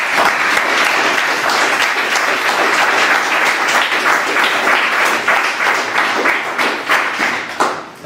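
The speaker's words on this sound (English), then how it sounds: "So big round of applause." Sustained, dense applause from a large audience greets the first startup pitch of a Birmingham pitching event, a steady wash of clapping for about eight seconds before it starts to taper off.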